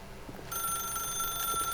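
An electronic telephone ring from The Stanley Parable: a bright, steady ringing tone begins suddenly after a brief lull and holds continuously, clear and fairly loud with no voices.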